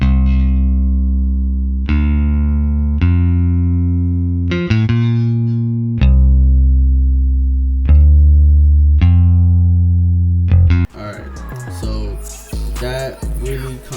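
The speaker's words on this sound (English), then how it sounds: "Next thing that I added here was a bass, of course." A bass line made in FL Studio plays under a melody for a pain beat, with long sustained low notes changing every second or two, loud and clean, and denser chords coming in near the end.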